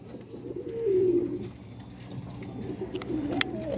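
Pet pigeons in a breeding pair at a loft farm coo softly and repeatedly nearby, low murmuring calls recurring over faint background noise.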